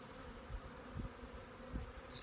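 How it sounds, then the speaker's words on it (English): Honey bees fly around hives outdoors in November, a soft steady buzz with a few louder passes as individual bees come close. "This is why I raise bees."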